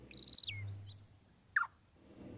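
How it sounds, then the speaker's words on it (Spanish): A crested gallito calls in Lihué Calel park: a brief high whistled phrase, then a few short sharp notes and one clear downslurred call, close and distinct against quiet natural background. "Finalmente se acercó un gallito copetón, ave que forma parte del emblema del parque."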